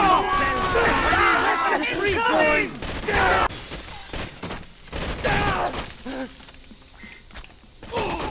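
Gunfire in the Rainbow Six Vegas video game, several bursts of shots in the first seconds and again later, with players talking over and between the shots.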